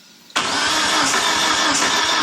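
A 1991 Eagle Talon TSi's 4G63 engine fires on its first start, catching abruptly after a brief crank and settling into a loud, steady, slightly lumpy idle close by.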